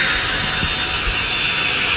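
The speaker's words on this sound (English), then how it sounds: "Let's increase throttle." Boeing 747 jet engines spool up in a flight simulator video game, giving a steady, loud whooshing roar with a high whine that holds evenly throughout.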